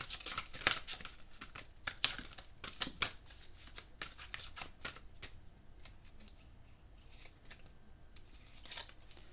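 Sacred Rebels Oracle cards are shuffled by hand in a quiet room, giving a run of quick papery riffles and flutters, busiest in the first few seconds and then settling into softer, scattered slides and taps.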